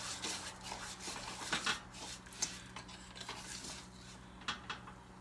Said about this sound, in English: So you want to stir it and coat like every bit of it in your oil.